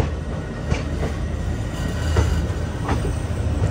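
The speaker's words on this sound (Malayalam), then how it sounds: "എറണാകുളം ടൗൺ റെയിൽവേ സ്റ്റേഷനിലേക്ക് ട്രെയിൻ എത്തിയിരിക്കുകയാണ്" Parasuram Express rolling into Ernakulam Town railway station: a loud, steady rumble of wheels on track with faint clicks and brief squeals, heard from on board without speech.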